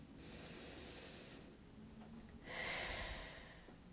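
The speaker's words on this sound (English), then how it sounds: "So take a few really deep breaths." Two slow, deep breaths drawn from the diaphragm, each a long soft airy rush close to the ear, the second louder and fuller, in an otherwise quiet room.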